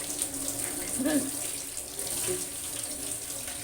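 Tap water runs steadily into a sink while fruit is washed, a continuous close splashing flow with a few brief clunks partway through.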